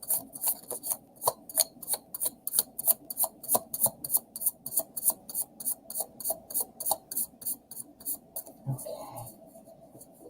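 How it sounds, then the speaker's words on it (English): Tarot cards are riffled and shuffled in a quick, steady rhythm of crisp flicking snaps, close and fairly quiet, ending with a soft settling rustle. "Let me give it another shuffle."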